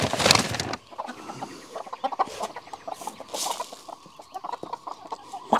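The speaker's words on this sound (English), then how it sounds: "Chickens, chickens, chickens." Several chickens cluck in short, busy bursts, close by, with a brief louder flurry at the start and steady scratchy clucking after.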